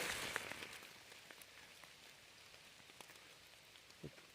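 Raindrops patter outdoors during mushroom picking in a forest, faint scattered ticks and taps, with one louder close drop near the end and no voices.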